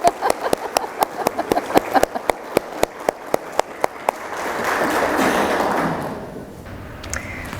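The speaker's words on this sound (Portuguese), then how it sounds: "Vamos puxar um nosso aplauso." At an adoption gathering in Franca, a few people clap in scattered, sparse beats at first, then a brief wash of broader applause swells and fades into quiet room tone.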